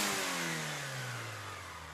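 Overpowered old car's engine revving hard at the traffic lights, a loud rasping roar that falls steadily in pitch as it eases off, with no voices over it.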